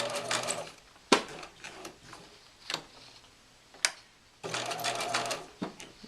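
A sewing machine stitching a curved line on practice paper, heard close as bursts of fast, rattling needle strokes broken by pauses and sharp single clicks as the fabric is turned, with no talking.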